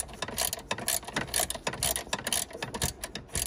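A hand ratchet tool loosens a bolt on a Mazda MX-5 RF roof mechanism, giving rapid, close, loud clicking and ratcheting bursts in an irregular rhythm with no talking.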